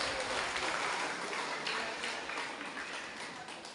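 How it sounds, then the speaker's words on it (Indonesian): Audience applause fills a church hall at a year-end Mass and Christmas song festival prize-giving, a steady, even wash of many hands clapping at moderate loudness, fading slightly toward the end. "Mari kita berikan tepuk tangan."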